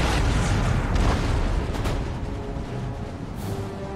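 A cannon artillery salvo in Empire: Total War, with a heavy, rumbling boom that rolls and decays over a few seconds, followed by a couple of fainter distant thumps.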